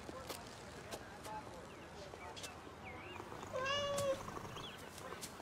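A cat meows a few times, a short rising cry near the end standing out over background chatter and people talking nearby.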